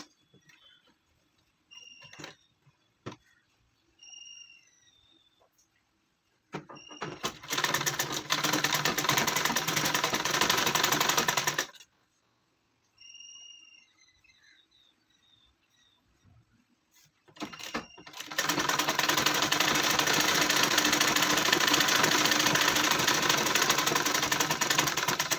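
A sewing machine stitches a gown for a three-year-old child in two long, steady runs, with quiet pauses and light clicks between them.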